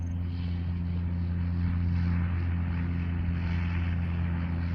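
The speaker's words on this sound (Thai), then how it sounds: "นี่นี่มีรถมีรถ เสียงมาก่อนเลย รถบรรทุกน้ำมันครับ" A fuel tanker truck approaches along a rural road beside farmland, its heavy engine producing a steady, loud, low droning rumble that holds throughout with no one speaking.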